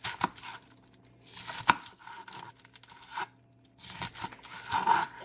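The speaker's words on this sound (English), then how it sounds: "cut your cabbage up in thin slices is what I feel is best" A knife slices a cabbage into thin strips, giving a few crisp, tearing cuts in uneven rhythm with quiet pauses between strokes, fairly close and at modest loudness.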